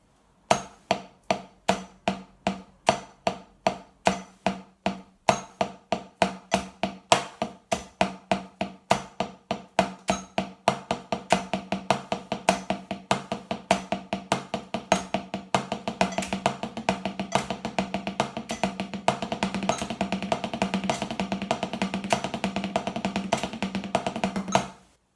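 A triple stroke roll played on a drum at 50 BPM, groups of quick strikes that start spaced and steadily speed up through denser note rates into a fast continuous roll before stopping abruptly.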